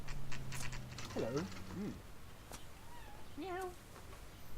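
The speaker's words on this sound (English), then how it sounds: "Sorry, that's my cat." A domestic cat meows a few times in short rising and falling calls, fairly close, with talk and game sounds around it.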